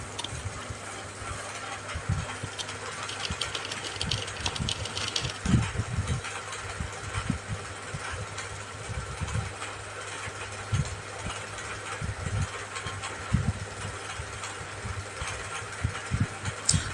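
A sewing machine runs as its needle stitches through paper during basic tailoring practice, with a steady mechanical whir and rapid rhythmic clicking of the needle, pausing and restarting at close range.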